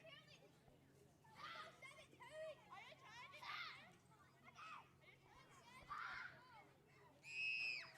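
A crowd of little kids at a baseball game, a cluster of excited high-pitched voices shouting and squealing in overlapping bursts against a low hum, heard from a short distance.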